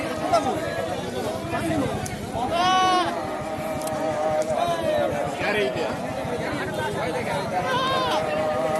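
Goats bleat several times at a busy livestock market in Naogaon, Bangladesh, their calls rising over constant crowd chatter and nearby voices.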